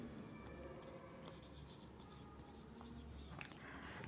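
Chalk or marker writing on a board during a pharmacology lecture on drug distribution, a steady faint scratching under room noise with no speech.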